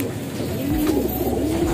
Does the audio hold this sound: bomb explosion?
no